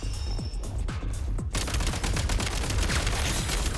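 Rapid bursts of automatic gunfire from a recoiling weapon in a video game, loud and continuous, with individual shots blurring into a sustained fusillade that grows denser partway through.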